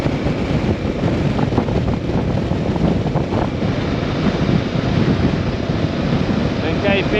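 Strong wind buffets the microphone in open, exposed countryside near a grain harvest, a steady loud rumbling roar with gusty swells that continues throughout.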